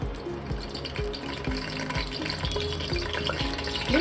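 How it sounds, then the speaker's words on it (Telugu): Chillies crackling and spattering in hot oil in a pan for an Andhra-style tomato mutton curry, a steady close sizzle with faint popping, with no talk. "నెక్స్ట్ చిల్లీస్ కొంచెం లైట్గా ఆయిల్లో పట్ పట్ అంటే చాలు"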